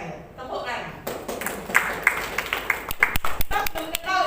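A small group at a posyandu coordination meeting claps in a few distinct bursts, with sharp separate hand claps standing out against room noise and voices talking around them.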